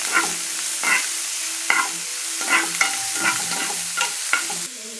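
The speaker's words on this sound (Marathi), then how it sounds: "त्यामध्ये कांदा टाकून घ्या अशा पद्धतीने त्यात कांदा टाकून घेतलेला आहे तो पण फ्राय करून घ्या" Onion and garlic frying in a kadhai, a loud steady sizzle broken by repeated stirring scrapes at an uneven rhythm, close up with no voices.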